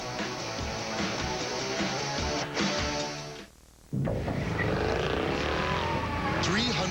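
A Mercedes C63 AMG engine, rated at 451 horsepower, roars loudly and steadily through a TV commercial, cutting out briefly midway before surging back with rising revs.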